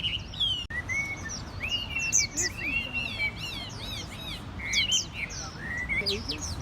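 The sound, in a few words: Hua Mei songbirds singing in a bird garden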